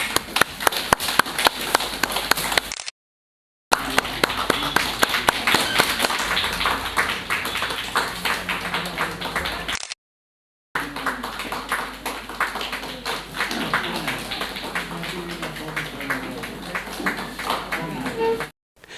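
A book launch audience claps in dense, continuous applause that fills the room, steady and fairly loud, broken by two short silent gaps before the clapping carries on.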